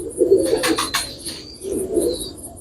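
Teddy pigeons coo in two soft, throaty bursts close by, with a brief flutter or rustle between them.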